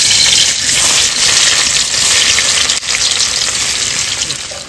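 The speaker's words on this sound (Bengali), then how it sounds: "পনিরটা ভেজে নিয়েছি, এবার নামিয়ে নেব।" Pieces of paneer frying in hot oil in a home kitchen pan give a steady, loud, dense sizzle with no voices.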